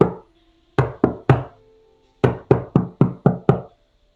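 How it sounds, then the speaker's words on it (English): A secret knock pounded on a wall: three quick loud thuds, a short pause, then a faster run of six more, sharp and close with nothing else heard. "we're gonna pound on the wall with our secret knock, and it's gonna sound like this."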